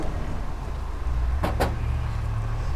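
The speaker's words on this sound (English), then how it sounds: "Hey, the garbage truck is coming." A garbage truck's engine rumbles low and steady nearby throughout, with two quick, sharp clicks midway and no talking.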